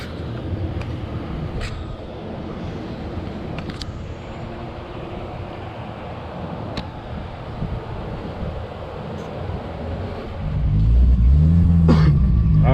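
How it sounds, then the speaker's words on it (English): A Toyota Supra on a first test drive after a differential and ring gear replacement gives a low, steady rumble of road and engine noise with wind buffeting, and it swells louder toward the end as the car pulls harder. "first drive on the new diff, testing it out, make sure everything's fine."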